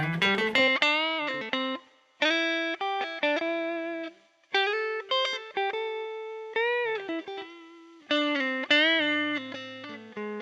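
An electric guitar on its neck pickup playing melodic phrases and chords on its own, with a warm, rounded tone and notes ringing out between short pauses.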